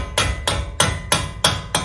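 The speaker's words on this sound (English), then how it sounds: "you can kind of use the hammer to help" Six sharp metallic hammer strikes on 17 mm bolts while replacing a Toyota Tacoma wheel hub, in a steady rhythm, close and loud, each hit ringing briefly before the next.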